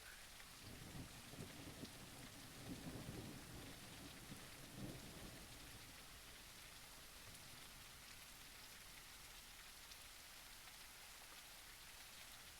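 Rain and thunder in the forest of the video game Yosemite Forest Ranger: a steady hiss of rainfall under a low rolling rumble of thunder that fades after a few seconds, leaving only the even rain.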